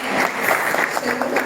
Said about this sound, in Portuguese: Aplaudam, por favor,